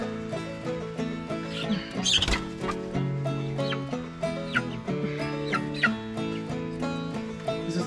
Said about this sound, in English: I'm gonna go ahead and add the chickens